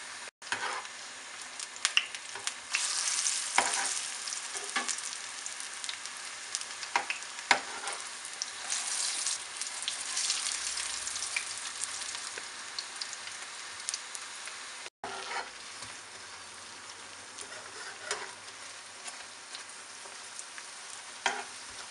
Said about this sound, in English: Now fry the pakoras in hot oil.